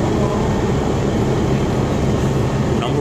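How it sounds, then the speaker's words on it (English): Steady, loud rumble of a New York City 4 subway train (R142/R142A) rolling along the tracks, a continuous roar with rattling wheels and no breaks. "Train right here."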